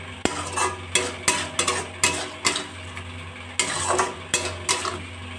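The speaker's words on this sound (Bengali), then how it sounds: "একটু নাড়াচাড়া করে দেবো।" Tomato, date and dried-mango chutney cooks with sugar in a pan over a raised gas flame, with a spoon scraping and knocking against the pan in a steady series of close, sharp strokes.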